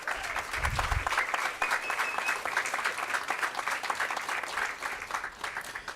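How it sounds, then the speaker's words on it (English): Audience applause for rangers at a World Rangers Day event, a steady mid-distance round of clapping from a modest crowd lasting several seconds, with a low thump near the start. "I'd like to ask you to please give the Rangers a hand of applause"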